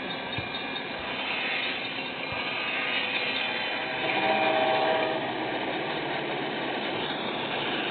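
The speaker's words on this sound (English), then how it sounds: "Train." A continuous rumbling train noise with a low mechanical drone and rattling, steady and moderately loud throughout, with no voices.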